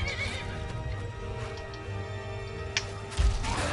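In the Skyrim video game, a horse set on fire whinnies and neighs over clip-clopping hooves, with a sharp crash near the end and no speech.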